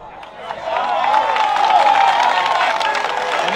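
Audience at a religious talk breaks into a burst of applause and cheering that swells after a moment and holds steady, mixed with crowd voices and shouts.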